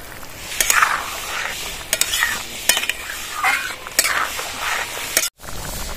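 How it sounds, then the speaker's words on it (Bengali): A spoon stirring cornflour slurry into a simmering vegetable soup, with soft swishing strokes, a few light clinks against the pot and a gentle bubbling sizzle throughout. "স্যুপটা গাঢ় করার জন্য আমি কর্নফ্লাওয়ার গুলাটা দিয়ে দেবো স্যুপের মধ্যে"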